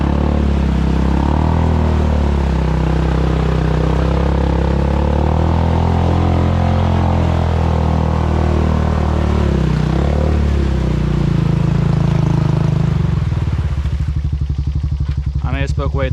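Honda Rancher ATV stuck in mud, its engine droning steadily loud and close at throttle, then easing back near the end, with someone talking over it.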